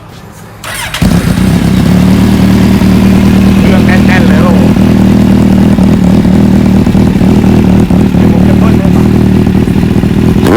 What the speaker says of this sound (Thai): เดี๋ยวเราสตาร์ทเครื่องให้ฟัง